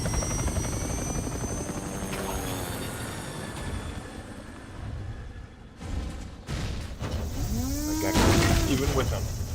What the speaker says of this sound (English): I'm hearing the helicopter sounds.